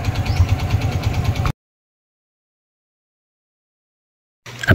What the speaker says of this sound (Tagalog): tapos buhayin natin yung motor mga 5 minutes